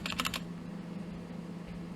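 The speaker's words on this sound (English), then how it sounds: "I'm gonna type clear to clear my terminal" A quick burst of a few computer keyboard keystrokes entering a terminal command, close and crisp, followed by a quiet low hum.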